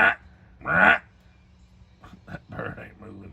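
A bird calls outdoors with loud duck-like quacks, two strong bursts at the start, followed by softer chattering calls, heard close with a voice nearby.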